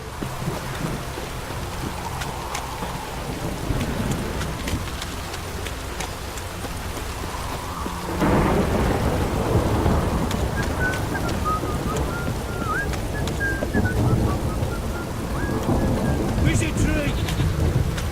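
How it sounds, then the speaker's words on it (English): Heavy rain pours steadily in The Witcher 3 video game, with thunder rumbling through a sustained downpour that swells louder midway and stays close and dense. "This downpour's a bastard, it is."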